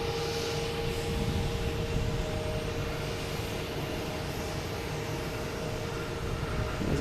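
A Cape Air Tecnam, a small nine-seat propeller plane at Logan Airport, gives off a steady, droning engine roar with a faint tonal whine that holds evenly throughout.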